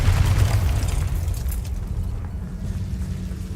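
Confringo fire-blast spell cast in Hogwarts Legacy: a loud, close burst that rolls into a low rumbling boom and slowly fades, with no talk.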